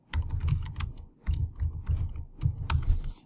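Quick bursts of keyboard typing as a search is entered into Google, crisp close clicks in short uneven runs separated by brief pauses, no speech.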